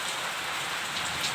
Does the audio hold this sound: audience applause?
no